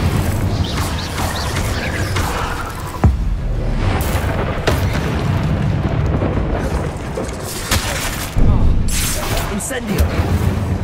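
A fire curse exploding during spell combat in the video game Hogwarts Legacy, heavy booms and crashing bursts punctuating continuous in-game battle noise, with a voice talking over much of it.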